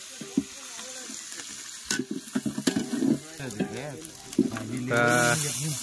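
Curry leaves and chillies sizzle and spit in hot oil, with bursts of crackling and spoon stirring, while a voice talks over the cooking and a brief clatter comes near the end.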